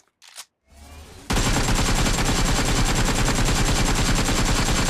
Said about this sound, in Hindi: तो चलो पहला गन है हमारा एकेम